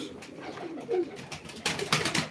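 Pigeons coo softly at a live pigeon auction, with low murmuring calls and a burst of wing flutter or rustling near the end, no clear talking.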